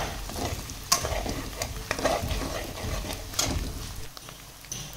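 Onions fry in oil in a kadai for dhaba-style kadai chicken, with a continuous close sizzle and repeated scraping stirs of a spoon against the pan.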